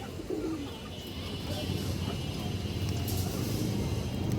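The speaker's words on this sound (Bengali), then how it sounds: "এগুলো উড়ানো কবুতর দর্শক একদম রানিং কবুতর ডিম বাচ্চা করা" Domestic flying pigeons of a breeding pair, kept with eggs and chicks, coo softly in a steady low murmur close by, with faint chirps over a constant background hum.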